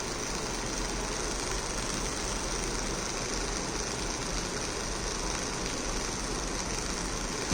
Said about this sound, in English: the motor is running now